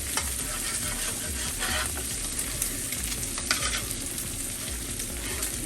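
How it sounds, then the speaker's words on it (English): Steady sizzling on a hot griddle after burgers are crisped, with a metal spatula scraping browned fond off the surface in irregular scrapes and taps, close and continuous, no talking. "I'm going to take my spatula, you guys, and scrape some of that fond off of the griddles"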